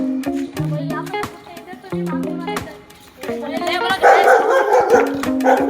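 A fierce dog barks repeatedly at people outside a house during a Shivratri donation round, sharp close barks in quick bursts, with people talking and noisy commotion building toward the end.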